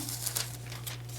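Backing being peeled off a foiled craft item gives a faint, close crinkling and crackling with a few brief louder crackles over a quiet background hum.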